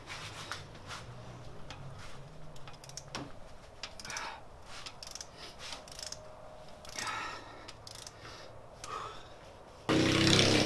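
A wrench breaks LS1 cylinder head bolts loose, giving a run of close metallic ratcheting clicks and knocks with short pauses, ending in a louder burst of noise.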